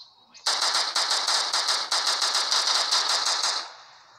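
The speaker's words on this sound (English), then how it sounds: "let's get out my SMG when the boys play Battle Royale games" Rapid SMG fire in a battle royale video game: one continuous burst of fast, evenly spaced shots lasting about three seconds, loud and close, rattling crisply with no pauses before it cuts off.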